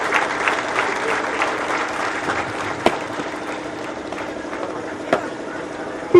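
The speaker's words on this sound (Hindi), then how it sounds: "और इन्हें बधाई देने के लिए आपकी तालियां इनका हौसला बढ़ाने के लिए काफी" Crowd applause for recruit constables at a UP Police passing out parade in Ghaziabad, steady clapping throughout with a couple of sharp louder claps and some background voices.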